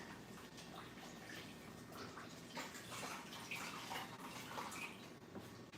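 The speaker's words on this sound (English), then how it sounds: "wash my hands." Running tap water splashes over hands in a kitchen, a soft steady wash of water with small splashy variations, heard faintly and without talking.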